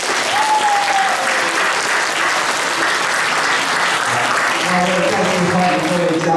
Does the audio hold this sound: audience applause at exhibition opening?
yes